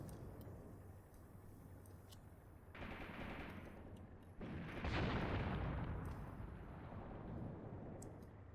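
Battle noise in the tactical war game Graviteam Tactics: distant crackling gunfire with a swelling roar of artillery or explosions, dense and continuous, rising to a louder rumble midway and sustained to the end.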